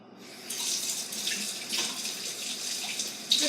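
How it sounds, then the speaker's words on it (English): Tap water runs steadily into a sink while a spoon is rinsed, a continuous close hiss of flowing water with no talk. "Just rinsing the blood off the spoon"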